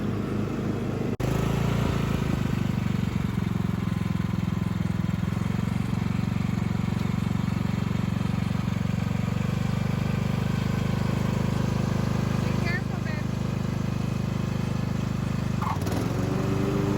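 A gasoline lawn mower engine runs steadily and fairly close in a home yard, holding a constant drone for the whole stretch with only slight shifts in pitch.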